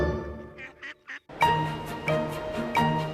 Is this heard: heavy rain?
no